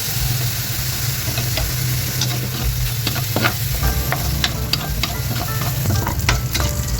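Garlic sizzles and fries steadily in rendered pork fat in a pan, with a continuous loud crackle, scattered sharp pops and spatter, and a low hum beneath, with no talking.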